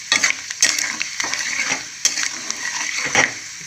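Garlic with salt fries and splutters loudly in a hot pan, a continuous crackling sizzle broken by sharp pops and occasional stirring scrapes.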